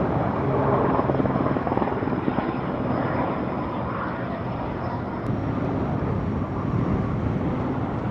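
A firefighting helicopter drones steadily overhead during a wildfire on Kos, a loud continuous rotor roar with a low throbbing beat that holds for several seconds.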